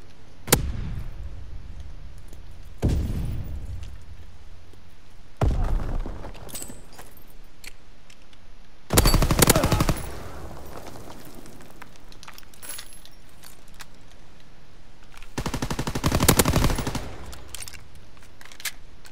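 Gunfire in a ranked shooter match: several loud bursts of rapid shots separated by quieter gaps, with sharp metallic clatter between them and no talking.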